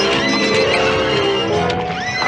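A horse gives a loud, close, shrill neigh that wavers and rises in a Western TV scene, layered over busy soundtrack noise with a hint of hoofbeats.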